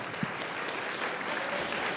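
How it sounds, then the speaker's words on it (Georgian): An audience applauds in a hall during a boxing competition day, a dense steady wash of clapping that holds for the whole stretch, with one sharper clap standing out early on. "აპლოდისმენტები თუ შეიძლება გავახუროთ დარბაზი"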